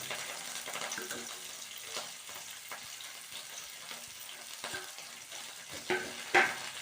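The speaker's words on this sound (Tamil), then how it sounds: "இப்போ நாம் கொத்தமல்லி திருத்தி வச்சுருக்கோம் இல்லையா, அதை இதோட சேர்த்து வதக்கிக்க வேண்டியது." Coriander leaves sautéing in a pan with curry leaves for a coriander thokku, a quiet, steady sizzle with occasional soft stirring scrapes and a couple of brief clinks near the end.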